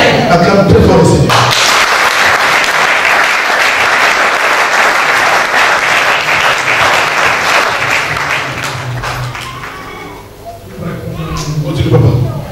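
Loud, sustained applause from a church congregation fills the room for about ten seconds, then fades and swells again briefly near the end, with voices mixed in.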